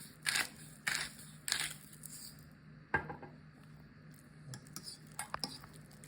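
Mashed avocado with a pinch of salt is mixed in a bowl for a chipotle chicken bowl, with a few sharp clinks of a utensil against the bowl followed by softer, quieter scraping and stirring, with no talking.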